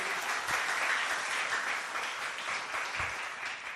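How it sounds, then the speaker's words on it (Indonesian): Audience at a business seminar applauding, a brief dense burst of clapping at steady volume that tapers slightly toward the end. "Sebelumnya tepuk tangan buat One Vision Bapak Ibu"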